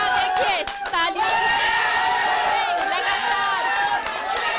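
Family and supporters at wrestler Bajrang Punia's home cheer and clap during his bout. Excited voices and cheering crowd the room, loud and close, with clapping mixed underneath.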